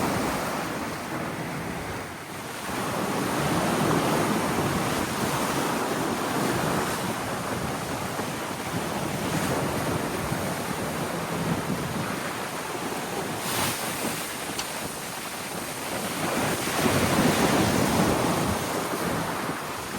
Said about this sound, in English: Pretty big seas. Very fast downwind sailing.